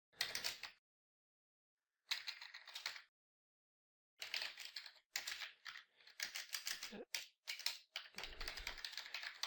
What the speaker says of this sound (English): we're just going to type something like authorized access only.